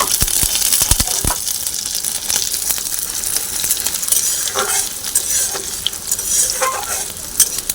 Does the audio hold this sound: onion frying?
yes